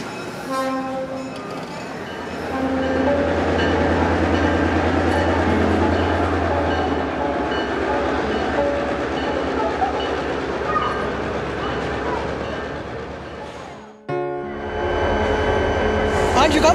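A train passes close by, a loud sustained rumble with a low horn-like drone, clattering steadily before cutting off abruptly, after which the rumble resumes more faintly; voices are heard in the mix.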